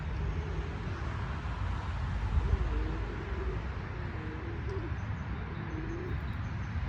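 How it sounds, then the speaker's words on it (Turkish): Soft, low cooing of pigeons repeats several times beneath a steady rumble of wind or distant traffic. "Bakın daha yerde de bir bu kadar kuş var."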